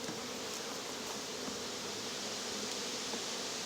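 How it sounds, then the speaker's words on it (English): Honeybees buzz inside a full hive box during a hive split, a dense and steady drone close up with no pauses and no talking. "So this box looks good, nice and full of bees."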